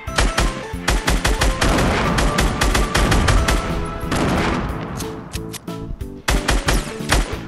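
Rapid automatic gunfire from the Fortnite battle royale game, dense bursts of shots and booms filling the clip loudly and almost continuously, with brief gaps between volleys.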